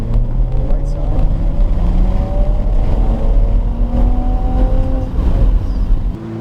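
A race car engine at full throttle on a track day, a loud, close, sustained roar climbing steadily in pitch as it accelerates, then dropping off near the end.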